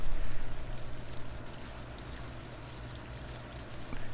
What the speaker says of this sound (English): Is it raining outside?